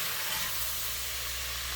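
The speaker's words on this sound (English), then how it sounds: "So it's basically you're frying the cabbage, stir frying," Cabbage stir-fried in a pan with no water gives a steady, soft sizzle and hiss, close and continuous with no talking.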